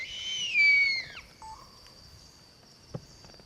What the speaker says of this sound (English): The call you just heard is another owl, still within the ebony grove,